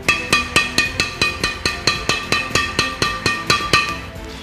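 Badminton racket strings, Li-Ning No. 1 Boost strung at 28 lbs, struck repeatedly: about eighteen sharp, ringing taps at an even quick rhythm, each close and crisp with a short metallic decay, with no talking.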